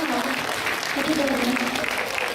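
An audience claps in sustained applause at a Thai performance in Chicago, a dense even wash of clapping that runs throughout, with voices over it.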